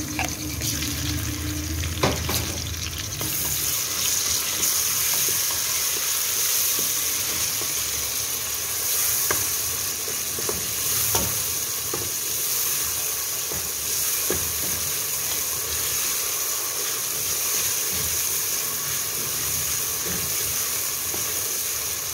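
Ginger garlic paste and ground green chilli paste fry with onions in a pot for mutton haleem, giving a steady, close sizzle with occasional stirring scrapes and no talk.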